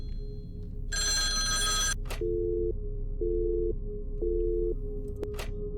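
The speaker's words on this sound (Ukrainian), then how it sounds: "Боже, який жахливий дзвінок." A telephone rings in a horror video game, a harsh electronic bell burst followed by a repeating pulsed tone, loud and close, with a short noisy click near the end and no speech.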